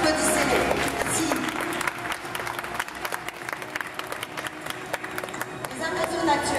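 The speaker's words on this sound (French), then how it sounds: "Applaudissez-les." An audience at a side-saddle riding demonstration breaks into sustained applause, dense clapping at first that thins into scattered claps, with voices in the crowd underneath.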